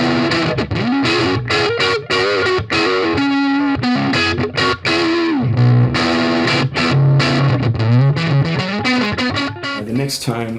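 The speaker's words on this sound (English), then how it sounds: "A lot of your old school rock sounds absolutely amazing through this kind of simulated amp." Electric guitar played through a NUX Amp Force simulator set to a Fender Bassman-style amp model, giving an old-school rock tone with mild grit; a continuous, loud riff of strummed chords and single notes, played alone without talk.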